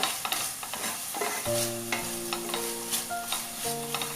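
Tomatoes fry and get stirred for a bottle gourd gravy, with steady close sizzling broken by scraping spoon strokes and clinks against the pan, and no talking.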